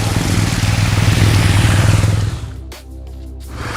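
BMW R 1200 GS motorcycle riding along a route toward a water crossing, its engine droning loud and steady up close, then easing briefly before building again near the end.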